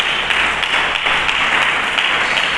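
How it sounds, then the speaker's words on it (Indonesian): A church congregation applauds for Jesus during a sermon, dense continuous clapping that stays loud and steady throughout. "Berikan tepuk tangan bagi Yesus."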